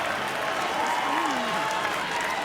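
Rugby league crowd at a Wests Tigers home match against the Raiders cheers and applauds in a dense, steady roar, with a commentator's voice running over it.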